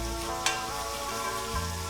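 Coriander seeds toasting in a dry pan make a steady, close frying hiss with a brief sharp rattle near the start, heard alone.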